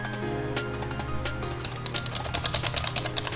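Loud computer keyboard typing rattles in quick irregular bursts of sharp clicks, fairly close, with no voices.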